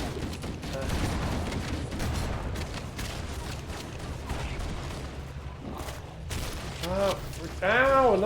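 Gunfire in the Halo video game during four-player split-screen play, with rapid bursts of shots and impacts under chatter, followed by rising electronic weapon whines near the end.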